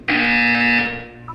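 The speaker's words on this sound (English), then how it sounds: "You will hear a buzzer." A single buzzer from the Portal 2 video game, a loud flat electronic drone lasting about a second that cuts off cleanly, followed by a brief blip.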